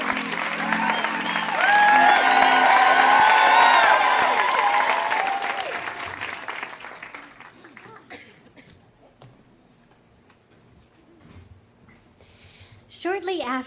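Audience applause swells quickly, holds for a few seconds, then tapers off into scattered claps and near quiet before a voice begins.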